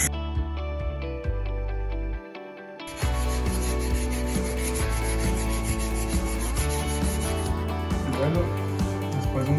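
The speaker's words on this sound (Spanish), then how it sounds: "vamos a hacer la práctica de lijado manual con agua, donde tenemos que sumergir o tenemos que humedecer la lija." Waterproof sandpaper, soaked in water, rubbed by hand in manual wet sanding, gives a steady gritty rasping with repeated strokes, briefly quieter before resuming louder and continuous to the end.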